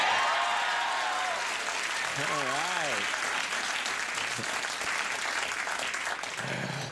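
A studio audience at a comedy show applauds loudly and continuously for several seconds, with brief cheers and music under it; someone speaks over the clapping as it winds down.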